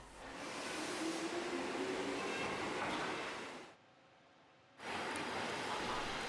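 Rumble of a retro Japanese local train on a small line around Shimonada, a steady broadband roll that cuts out for about a second, as if passing behind something, then resumes just as strongly.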